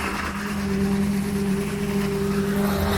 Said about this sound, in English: So you can see that Junel put on the vibrator now, because he has put on 3 buckets of muck to compact it in.